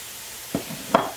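Leeks and garlic fry in a pan with a soft, faint sizzle, punctuated by two quick scraping stirs of a utensil against the pan.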